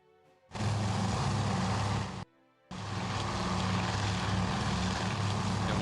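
Propeller engines of World War II torpedo bombers in a naval strategy game, a loud steady droning roar with a brief drop in the middle before resuming.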